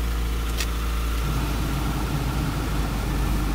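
A 1991 Chevrolet Cavalier engine runs close up as a steady, even mechanical hum, with a slight shift in tone partway through but no sharp surge or popping.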